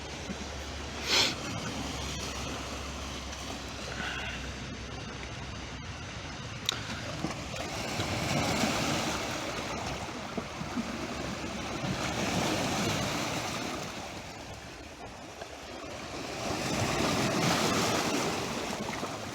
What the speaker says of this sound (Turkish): ben bunları konuşurken niye deniz bu kadar üstüne üstüne geliyorlar?